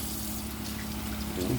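Steady water rushing from a tap, a continuous broadband hiss at an even level with a slight swell near the end.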